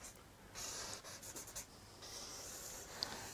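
A Uniball 05 pen scratches across paper in soft, close strokes that stop and start, quiet and unaccompanied.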